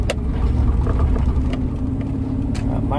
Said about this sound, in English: so now we can really put her on the road. First gear.